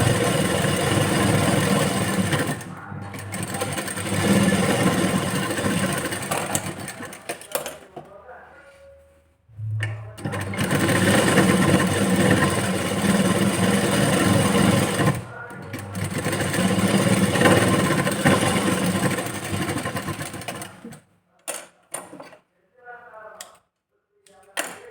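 A sewing machine stitches a blouse in long runs of fast, steady mechanical whirring, close and loud, separated by brief pauses and a few short bursts near the end.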